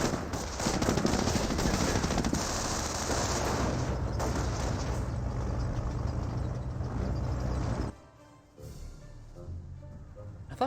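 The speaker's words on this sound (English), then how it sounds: "Two Panzer tracks firing." Panzer tanks fire in a Company of Heroes battle: dense, continuous machine-gun and cannon fire over rumbling engines for about eight seconds, then a sudden cut to quieter battlefield ambience with a few scattered shots.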